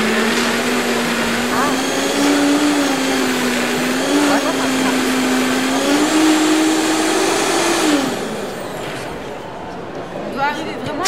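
Vitamix blender whirs loudly through spinach, broccoli and fruit, its motor pitch wavering as the load shifts, then easing off near the end while people talk over it.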